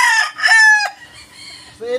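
A broodcock rooster crows loudly and close by in one harsh, drawn-out call that breaks off, followed by a short softer bird sound at the end.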